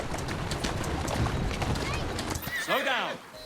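A horse in Assassin's Creed Syndicate clip-clops steadily under background game sounds, ending with a clear rising-and-falling neigh near the close.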